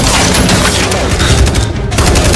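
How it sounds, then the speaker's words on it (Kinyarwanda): Dense gunfire from an action film dubbed with narration, rapid overlapping shots and bursts forming a loud continuous fusillade throughout. "Aba bari kurasa."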